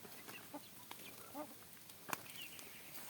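A few soft, scattered chicken clucks sound close by, quiet and intermittent over faint outdoor background noise, with one sharper click near the middle.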